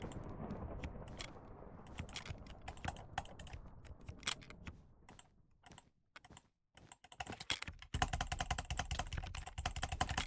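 A computer keyboard is typed on rapidly during a Minecraft session, with close, crisp key clicks in dense bursts, a brief pause midway, then a louder steady stretch of tapping with constant background hum.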